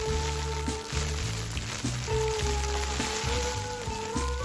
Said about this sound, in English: You can probably hear the rain hitting off the plastic on our greenhouse there.